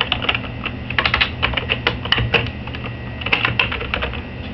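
Someone types a name on a computer keyboard: a close, quick patter of light key clicks in uneven bursts with brief pauses, over a faint low background hum and no talking.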